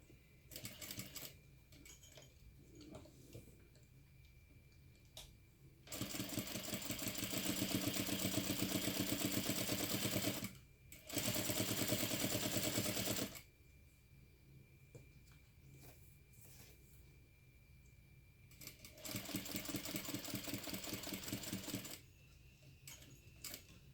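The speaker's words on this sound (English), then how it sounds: "we're going to sew all the way around that rectangle, right along the lines." A sewing machine stitches around a fabric rectangle in three bursts of fast, even mechanical whirring, with quiet pauses between runs where the needle stops to turn the corner.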